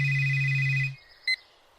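A mobile phone ringtone plays loudly for just under a second with a steady electronic tone, cuts off, then gives one brief faint chirp in a quiet room.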